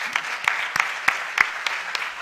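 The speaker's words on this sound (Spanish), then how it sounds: "aplauso" A few people clap close by in a light, uneven patter lasting a couple of seconds.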